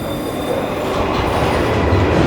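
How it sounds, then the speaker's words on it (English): A London Underground train rumbles into Warren Street station, its wheels squealing and clattering as the loud roar steadily builds. "Oh, hang on, train coming."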